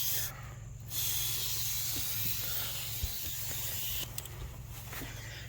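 Steady close hiss of an air compressor filling a car tire on a Cadillac DeVille, a continuous airy rush over a low electric hum with brief breaks.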